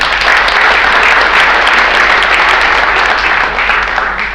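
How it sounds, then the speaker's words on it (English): Steady, dense applause from a sizable conference audience, loud and sustained throughout with no pauses or voices breaking through. "Please give Shane a round of applause."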